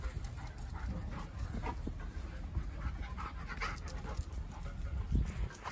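A German Shepherd puppy pants rapidly and steadily while playing, close by and fairly quiet, with no voices over it.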